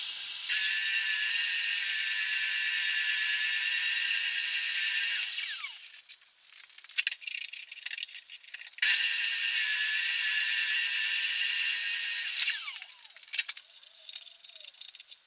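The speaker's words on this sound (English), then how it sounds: "I'm now going to move to the oscillating sander to get as much as I can on here" Oscillating sander shaping guitar body templates in a workshop, running in two long steady high-pitched whining bursts of about five seconds each, separated by quieter pauses with small knocks and handling sounds.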